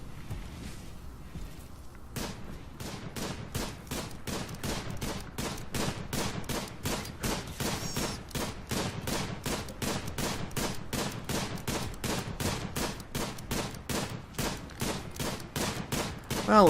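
Gunfire in the colony-building game Rimworld, a long run of evenly spaced sharp shots firing rapidly after a brief quiet start, loud and without talk.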